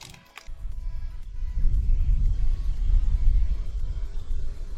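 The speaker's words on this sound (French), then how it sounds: "il y a une tempête, là." Storm rumbling outside, a loud, steady low roar that swells after a brief quieter start and holds through to the end, with no talk over it.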